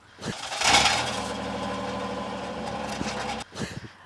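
A worn, rusty car engine cranks and catches, then settles into a rough mid-pitched idle with a steady rumble, cutting off abruptly before a brief second burst of noise.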